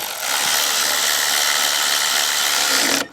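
A ratchet threads bolts into a Troy-Bilt 2700 PSI pressure washer that leaks water and has no pressure, giving a continuous close, loud mechanical whirring and clicking that runs steadily for about three seconds, then cuts off abruptly.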